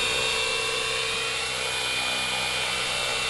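An Align T-Rex 550E PRO DFC electric RC helicopter hovers steadily outdoors on a breezy day. Its rotors and motor give a constant, close, buzzing whine with no change in pitch.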